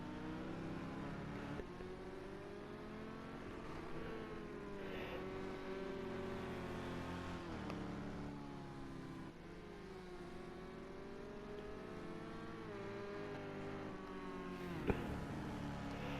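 GTE race car engines rise and fall through gears at Sugo circuit in a sim racing game, a steady layered engine whine with repeated upshifts and throttle surges, fairly faint throughout.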